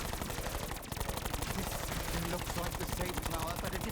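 Rapid automatic gunfire in Black Ops 4 zombies mode, a dense, continuous stream of loud, evenly spaced shots filling the whole stretch without pause.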